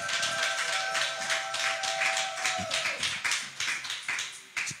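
Congregation clapping to acclaim the Lord at a church prayer service, a steady run of rapid hand claps filling the room over a held organ-like tone, moderately loud and without talk.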